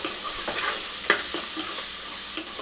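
Ginger paste with turmeric and salt is stirred in a hot pan for a Telangana bagara chicken curry, giving a steady close sizzle with a few scraping spoon knocks throughout.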